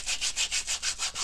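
Steady back-and-forth sanding of the edge of an old Victorian photo album, eight even rasping strokes in a quick rhythm, close and alone.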